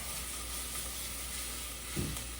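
Onions sizzle and fry steadily in a pan for a lamb samosa stew, a constant close hiss with one brief stir or clatter near the end.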